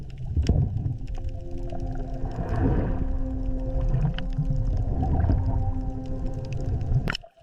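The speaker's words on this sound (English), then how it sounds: "This is the blue whale." Blue whale vocalizing in icy Antarctic waters: long, low tonal moans sustained for several seconds, loud and continuous over a deep rumbling underwater background, ending in a brief sharp click.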